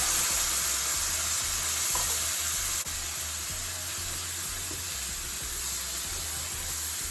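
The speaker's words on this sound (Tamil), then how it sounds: "இதை ஒரு வதக்கு வதக்கணும்" Sri Lankan spicy crab curry with ground paste sautéing in a pan, giving a dense continuous hiss and sizzle with a faint steady low hum beneath, close and without talk.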